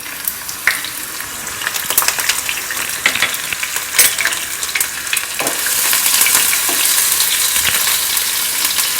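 Cumin, chili and garlic fry in hot oil for a French beans and potato sabzi, a dense crackling sizzle broken by spatula clinks and scrapes that swells into a fuller, steadier hiss toward the end.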